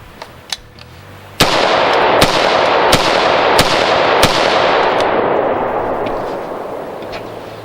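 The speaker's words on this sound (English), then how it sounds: "All right, Silver Bear, 5 shots." Five rifle shots of Silver Bear ammunition fired over a chronograph, loud sharp cracks spaced about seven tenths of a second apart, each ringing into a heavy sustained roar of echo and wind noise, with two faint distant shots before.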